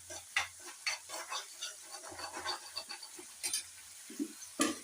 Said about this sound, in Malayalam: ഈ ഭാഗത്ത് ഇതിൽ ഈ സവോള ഇട്ട് വഴറ്റാം.